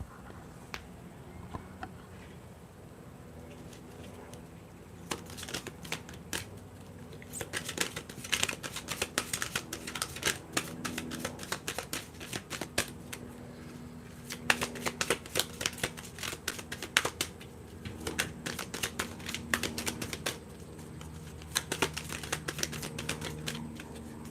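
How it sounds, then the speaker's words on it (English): A deck of tarot cards is shuffled by hand, with bursts of crisp riffling and flicking card noise coming in repeated waves over about twenty seconds, close up, with no talking. "I'm going to put the mic down and shuffle."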